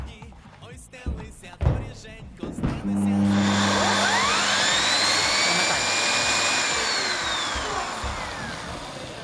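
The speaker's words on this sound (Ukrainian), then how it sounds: "Зараз ще покажу, як працює турбощітка." A Zelmer Aquos 829.0 ST aqua-filter vacuum cleaner rated at 1600 W starts with its turbo brush, a few knocks and clatters followed by a loud, steady motor whine and roar that rises in pitch and holds, close by.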